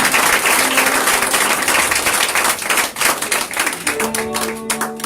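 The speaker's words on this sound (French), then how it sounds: "Nous applaudissons le Seigneur pour ça." A church congregation claps at an inauguration service, loud close applause with some rhythmic hand-slapping while faint sung or sustained tones rise beneath it toward the end.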